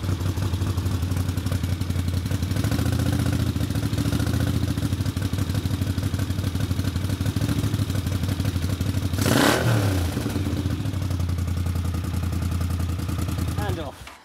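A Honda CX 500 motorcycle engine, being built into a cafe racer, idles loudly and steadily up close, then gets a single sharp throttle blip that rises and falls before settling back toward idle and cutting off at the end.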